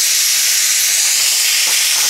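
A pressure cooker cooking ragda lets out a loud, sustained whistle of hissing steam, a bright continuous jet that holds steady throughout with no speech.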